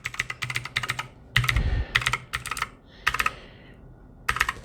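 Budget mechanical gaming keyboard with Cherry Blue–equivalent switches being typed on, crisp clicky keystrokes arriving in quick irregular bursts separated by short pauses, close and clear with no talking.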